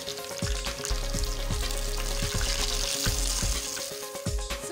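Food frying in a hot pan while cooking Nigerian fried rice: a steady, bright sizzle runs throughout, broken by regular low thumps and scrapes as it is stirred.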